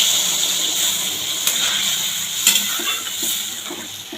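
Water is poured into curry already frying in a pan with boiled potatoes, a steady broadband hiss and sizzle holding throughout, with a few soft clinks and stirring knocks from the pan.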